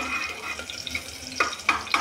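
Chopped onions fry in a pan over low heat for masale bhat, a soft steady sizzle under a few sharp clinks of stirring near the end.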